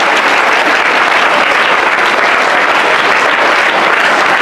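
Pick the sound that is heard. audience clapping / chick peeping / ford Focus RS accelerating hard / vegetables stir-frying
audience clapping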